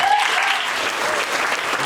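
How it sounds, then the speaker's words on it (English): A brief burst of audience clapping at a live stand-up comedy show, steady and fairly loud, with a faint whoop at the start. "Round of applause for this guy."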